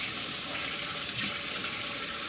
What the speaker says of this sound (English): rinse them as many times as you think needed